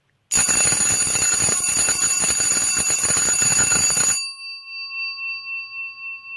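A loud Edwards Adaptabel No. 340 4-inch electric bell, gray and unpainted, rings continuously on 14 volts with a harsh metallic clatter for about four seconds, then cuts off, leaving a fading pulsing hum.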